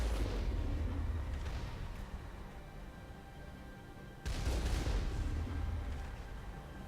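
Heavy cannon blasts from the Mako armored vehicle in Mass Effect on Noveria, booming loudly with a rumbling low end, one large burst near the start and a second sharp impact about two-thirds through, each trailing off.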